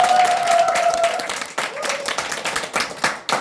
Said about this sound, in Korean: 우리 세비대를 향해서 박수 한번 보내자